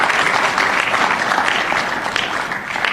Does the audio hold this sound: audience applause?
yes